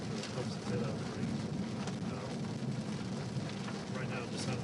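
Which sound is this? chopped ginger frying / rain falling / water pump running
rain falling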